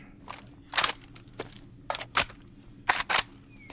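Mechanical clicks and clacks of a gun being reloaded in the video game DayZ, a series of sharp metallic snaps in uneven bursts, close and fairly loud, with no talking.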